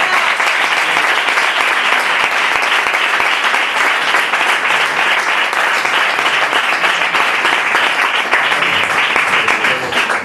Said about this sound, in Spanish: ¿Puedes aplaudirle al Señor?